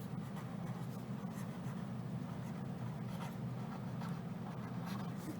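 A pen or marker scratches across a board in a classroom geometry lesson, a continuous soft rubbing scrape with faint strokes over a steady room hum.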